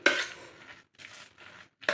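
A metal spoon mashes cooked chana dal inside a steel pressure cooker, giving three or four scraping, clinking strokes with short pauses between them, close and fairly quiet.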